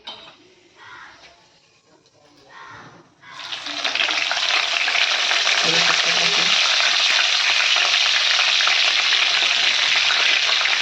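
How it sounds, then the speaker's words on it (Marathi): Cumin and mustard seeds hit hot oil in a kadai and burst into a loud, steady sizzle after a quiet start, with a few faint clinks partway through. "कढई ठेवलेली आहे. जिरे मोहरी टाकायची आपल्याला."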